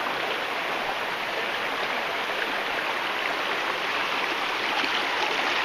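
Creek water runs high and fast, a steady, close broadband rushing and gurgling that stays even and unbroken throughout.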